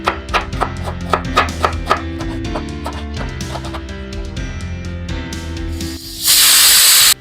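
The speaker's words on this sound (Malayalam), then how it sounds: "രണ്ട് വിസിൽ വന്ന് നമുക്ക് ഓഫാക്കിയിടാം." A pressure cooker on a Kerala home stove lets out a loud, rushing steam whistle near the end, following a stretch of rhythmic knife taps as onions are chopped nearby.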